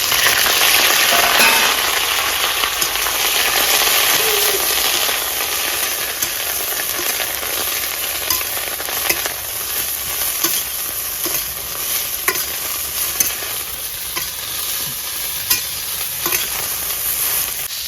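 Broccoli sizzles in hot mustard oil in a pan, a loud steady frying hiss with intermittent scraping stirs, close up and without talk.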